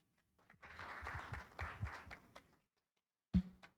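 Faint applause from a small audience at a maritime cooperation event, a couple of seconds of scattered clapping that fades out, followed by a single sharp knock or thump.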